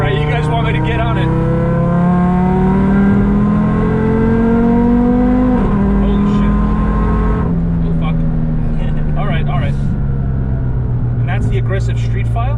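A tuned Audi RS3 with an IMS1000 setup accelerates hard, its engine note climbing steadily through the gears, loud and close from inside the cabin, while people talk over it.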